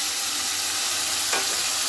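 Onion, ginger and garlic paste frying in hot oil with whole garam masala, giving a steady, close, loud sizzle with a brief scraping stir partway through.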